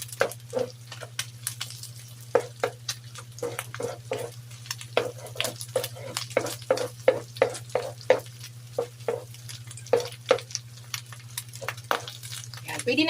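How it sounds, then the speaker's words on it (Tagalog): Butter melts in a pan, giving a steady run of close crackles and soft pops over a constant low hum, with no clear talking. "tunawin ko lang muna saglit ang butter"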